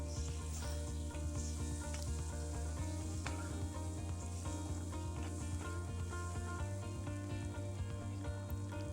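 Capsicum pieces fry in an oiled pan for a mushroom dish, a soft, even, continuous sizzle with occasional stirring, close by and with no talking.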